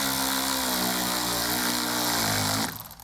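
A 10mm nut is reinstalled on the negative battery terminal of a 2014-15 GMC Sierra 1500, a power tool whirring loudly and steadily for nearly three seconds before cutting off abruptly.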